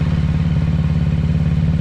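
A 2020 Kawasaki Ninja 650 engine runs close and loud at low revs on a cold day, a steady, throbbing low rumble with only slight rises in throttle.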